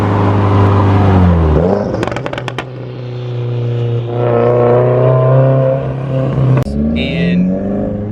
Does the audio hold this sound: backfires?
yes